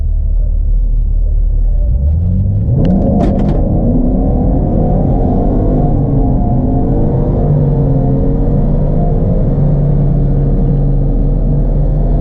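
A turbocharged 2014 Jeep SRT8 with a built motor rumbles loudly close by, then revs up with a rising whine and a few sharp pops, and settles into a sustained, droning run at a truck and SUV event.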